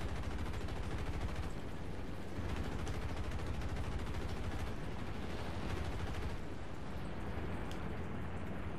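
Sustained rapid aircraft gunfire in the War Thunder video game, a dense continuous roar of automatic shots with no talk over it.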